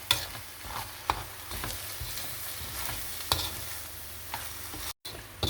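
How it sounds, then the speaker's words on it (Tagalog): A utensil stirs sauce into ground beef sisig sizzling in a pan, with repeated scraping strokes over a steady frying hiss, close and fairly loud, and no speech. "ihalo na natin yung sauce sa ating sisig"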